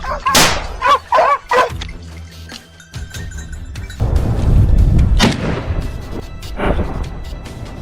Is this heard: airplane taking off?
no